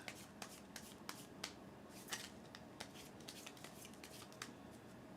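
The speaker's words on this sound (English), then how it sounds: "I need to shuffle this deck." An unsleeved deck of cards for a Dragon Eclipse tabletop game gets shuffled close by, a quiet run of crisp riffling snaps and flutters repeating over several seconds.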